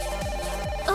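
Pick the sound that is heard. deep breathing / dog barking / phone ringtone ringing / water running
phone ringtone ringing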